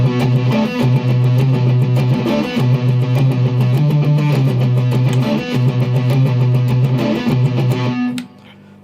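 Distorted electric guitar plays a heavy breakdown riff in standard tuning, a dense, loud, steady chugging pattern of repeated notes lasting about eight seconds before cutting off abruptly.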